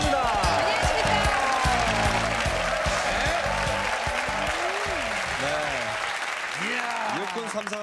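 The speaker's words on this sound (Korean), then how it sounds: "육군 3사관학교 박수부터 다르지 않습니까?" A studio audience of Korea Army Third Military Academy cadets and reservists claps together in loud, dense applause. The clapping gradually gives way to voices talking toward the end.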